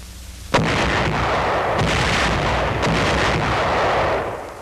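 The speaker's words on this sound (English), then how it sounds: "Modern war often demands the massed fire of a battalion or group of battalions." Massed artillery of a battalion opens fire: one sharp, loud report lands, then a dense, overlapping roll of heavy booming shots and rumble that holds steady before easing off at the end.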